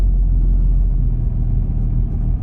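An MG Maestro Turbo engine idles with a steady, close, low rumble that wavers slightly and dips near the end, as though about to stall.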